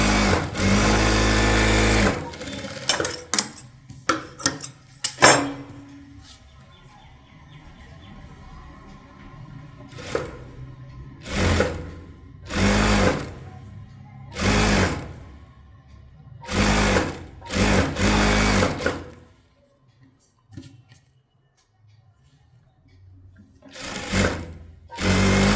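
A sewing machine edge stitching along a blouse, running in loud, close, stop-start bursts of rapid stitching separated by brief pauses.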